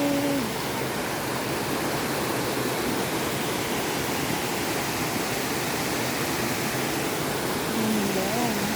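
Clear mountain stream flows with a loud, continuous wash of rushing water, close and unbroken throughout, with brief faint voices barely rising above the steady torrent.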